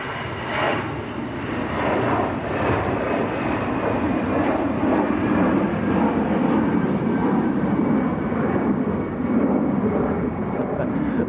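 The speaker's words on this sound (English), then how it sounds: "EasyJet just about to get airborne" EasyJet airliner taking off at Manchester Airport, a steady distant jet roar rising and sustaining, with faint voices talking underneath.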